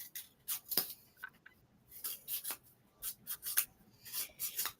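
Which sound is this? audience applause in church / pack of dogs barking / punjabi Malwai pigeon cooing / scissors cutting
scissors cutting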